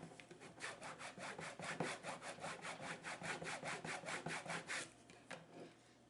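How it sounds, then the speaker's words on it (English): Transfer tape is burnished down onto a craft project with a steady series of rhythmic rubbing strokes, about a dozen close back-and-forth scrapes in quick succession, fairly quiet and with no voices. "When you get it on there, I'm going to burnish it down."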